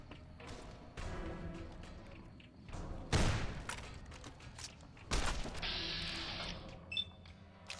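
Gunshots in the video game Fallout: New Vegas, two heavy booming shots a couple of seconds apart amid mechanical clatter and game ambience, with no talk.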